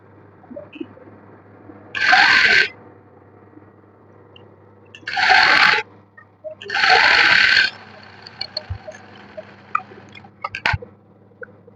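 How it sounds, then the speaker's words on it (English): A sewing machine stitches corset fabric in three bursts of a second or so each, separated by quiet pauses, with soft handling clicks and small rustles of the cloth between runs. "I'm just going to do the stitch again"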